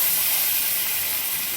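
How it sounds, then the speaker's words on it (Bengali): Fish fat and roe sizzle steadily in hot mustard oil with tempering spices, a loud continuous hiss with no talk. "ফোড়নের সঙ্গে মাছের তেল এবং ডিমটা ভালো করে নেড়েচেড়ে ভেজে নিচ্ছি।"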